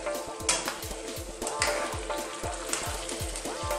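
Pork and mixed vegetables with shrimp paste, salt and black pepper sizzle in a pan for pork pinakbet while a spoon stirs in a rapid, repeated scraping rhythm, close and fairly loud throughout.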